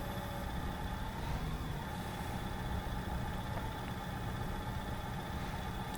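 A tractor engine in the video game Farming Simulator 19 drones at a steady, even idle-like rumble throughout, with no talking over it.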